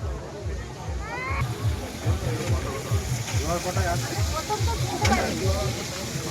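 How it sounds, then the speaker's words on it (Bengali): Bhetki fish fries in oil at a busy outdoor fish stall, a constant bubbling sizzle with rhythmic clatter, and people talk nearby over it. "এটা ভিতরে মাছটা ভাজা হচ্ছে।"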